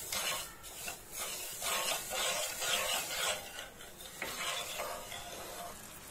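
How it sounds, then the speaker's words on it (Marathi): Sugar being stirred into water in a cooking pan gives a soft, continuous scraping and swishing, quiet and close, with a faint hiss running under the gentle strokes. "साखर पाण्यामध्ये विरघळवून घ्यायची आहे"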